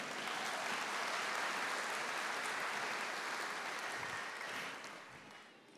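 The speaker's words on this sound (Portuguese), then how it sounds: "Vamos aplaudir." A congregation at a church sermon applauds steadily for about five seconds, a broad even wash of clapping that fades near the end and is cut off abruptly.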